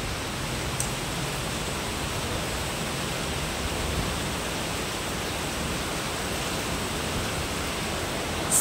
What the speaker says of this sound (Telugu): వర్షం బాగా పడుతుంది వాన.